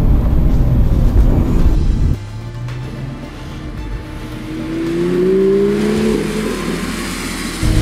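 A BMW M3 engine revs and pulls hard during a drift on a slippery surface, its rising note climbing steadily and loud throughout, with no talking over it.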